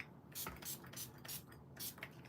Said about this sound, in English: we're going to spritz it with some shimmer spray